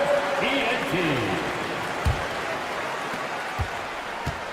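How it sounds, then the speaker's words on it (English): Broad crowd applause and arena noise in a basketball video game featuring the Sixers and Knicks, a steady wash under an announcer's voice, with a few low thumps near the end. "Let's give a big round of applause for your Sixers ENT."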